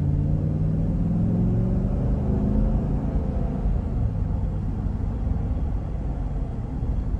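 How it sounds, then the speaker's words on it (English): A 2020 Chevrolet Tahoe Premier 2WD with its 5.3L V8 pulls under throttle, steady low engine drone and road rumble from inside the cabin, holding loud and continuous without a clear shift. "Let's give it throttle here."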